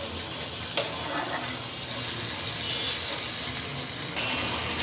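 Mustard masala frying in hot oil for hilsa curry, a steady loud sizzle with stirring and scraping throughout, close by, broken by one sharp clack early on.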